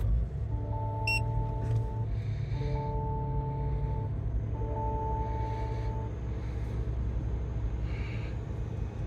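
Push-button start in a 2024 Lexus GX 550 Overtrail, heard from the cabin as a low steady engine hum with a repeating series of tonal chimes and a brief beep, with no talking.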